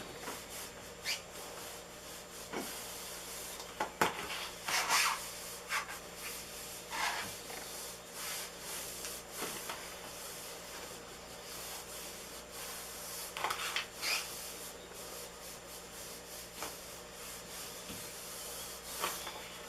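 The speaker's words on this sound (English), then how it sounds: "You can heat it up by rubbing it, and it'll help things out a little bit." A palm rubs a vinyl dash pad cover during an A-pillar cover restoration, making faint, irregular swishing strokes with short pauses over a quiet background hum.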